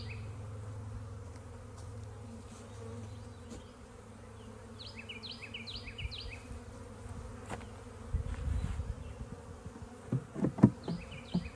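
Steady, close buzzing of many honeybees droning together at a hive, with soft thumps and handling knocks rising near the end.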